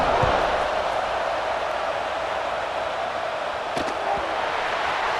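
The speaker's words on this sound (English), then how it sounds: "this crowd is buzzing after that last score." Stadium crowd in the College Football 26 video game buzzing after a touchdown in a Nebraska versus Ohio State matchup, a continuous broad roar of many voices with a couple of brief sharp knocks partway through.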